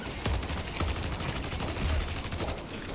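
Rapid gunfire bursts in a multiplayer shooter video game, with repeated sharp shots and short automatic volleys fairly close and loud throughout, no talk over them.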